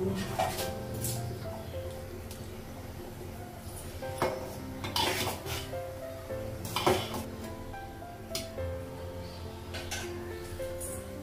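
Metal pots, lids and utensils clink and clatter in a home kitchen while rice cooks on a gas stove, giving a scattering of sharp knocks and rattles over a low steady background hum.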